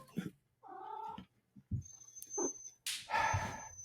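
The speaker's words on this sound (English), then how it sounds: "the cat has arrived on my desk." A house cat jumps up onto a desk: a few soft thumps and brief rustles, close by, with a short cat vocalization among the bumps and no talking.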